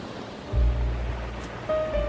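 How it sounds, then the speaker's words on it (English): At the monsoon-filled Temghar Dam, overflowing water gives a steady, low rushing roar with deep surges, like distant surf, and no speech. "The lake is full and you can see the water overflowing."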